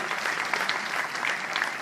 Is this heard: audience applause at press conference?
yes